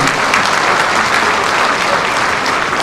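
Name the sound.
audience applause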